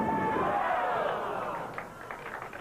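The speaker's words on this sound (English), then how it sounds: "much appreciation from this capacity crowd at Landmark Lanes in Peoria" A capacity crowd applauds at Landmark Lanes bowling alley in Peoria during a 1989 PBA True Value Open match, a broad wash of clapping that fades into scattered claps and murmuring.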